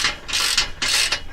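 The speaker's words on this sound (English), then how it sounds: "So we'll tighten a few cranks on each side." A ratchet wrench tightens the clamp nuts on an MBRP dump exhaust, two close bursts of rapid metallic clicking separated by a brief pause, loud and near with no talk.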